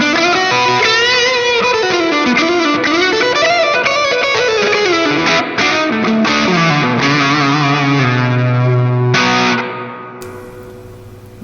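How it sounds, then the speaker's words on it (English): Distorted electric guitar lead played on the neck pickup through a Celestion Greenback speaker, a loud, sustained singing line of bending and sliding notes that ends on a held note and fades out. "let's go ahead and try some lead tones, and we're going to try this first on the neck position"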